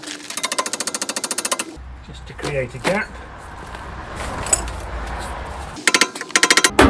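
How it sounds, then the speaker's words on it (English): Rapid, evenly spaced metallic taps from a hammer gently striking a stuck BMW M3 suspension part come in bursts, with someone talking between them. "So gentle tapping with a hammer"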